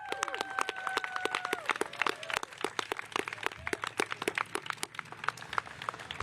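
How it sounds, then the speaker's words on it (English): A live crowd at a New York City parks announcement gives a round of applause, dense overlapping hand claps with scattered sharp cracks sustained throughout, with a faint whistle-like tone early on. "can we have one more round of applause for Maxime?"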